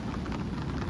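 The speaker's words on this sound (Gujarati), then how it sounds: "વરસાદ મોટો થઈ ગયો તમે જોયું" Heavy rain pours down in a dense, even hiss for about a second, with no voices over it.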